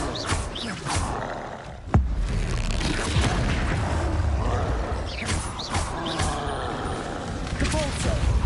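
A Confringo spell blast in the Hogwarts Legacy video game bursts with a sudden loud crack amid continuous roaring, rumbling game noise, followed by further softer impacts.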